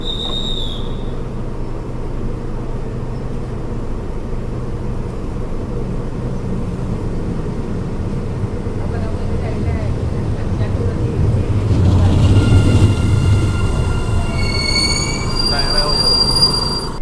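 A train near Hat Yai, Thailand rumbles past with high, piercing wheel squeals rising toward the end, steady rolling noise throughout, loud and close.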